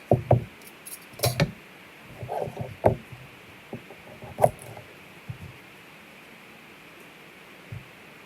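Knife chopping carrots and other vegetables on a cutting board for canned beef stew, scattered irregular knocks and taps with quiet gaps between them, close and moderately soft, with no talking.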